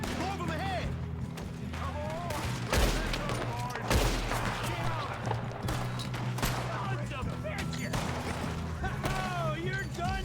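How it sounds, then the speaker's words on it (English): Gunfire in a Red Dead Redemption 2 train robbery shootout, with scattered shots and bursts throughout, close and loud, mixed with game music and voices calling out over the fighting. "Good shooting, kid."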